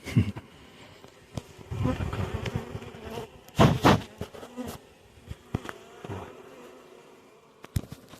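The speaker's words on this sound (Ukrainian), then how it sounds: "трошки бджоли нападають, але трошки димом подмухують та й тікають" Bees at a wild forest hive in Polesia buzz steadily in dense swarming drones, with louder bursts as they swirl close and occasional sharp knocks.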